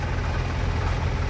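A JCB excavator's engine rumbles steadily at close range while clearing a village drain, a continuous low idle-like drone with no breaks.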